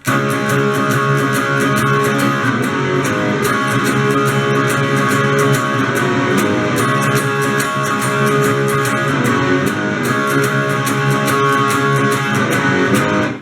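A dense, continuous guitar part plays throughout with no pauses, full and loud, notes blending over a steady busy texture.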